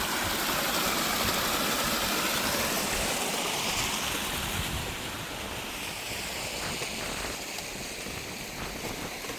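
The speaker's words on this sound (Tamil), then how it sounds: "இதில் பாருங்க அப்படி தண்ணி ஓடுது வந்து." Water flowing steadily along a village stream near rice paddies, a continuous close, loud rushing wash that eases slightly partway through, no voices.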